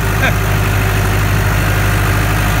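A loud, close engine drones steadily with a deep, even rumble while its throttle is worked during top dressing of a corn field.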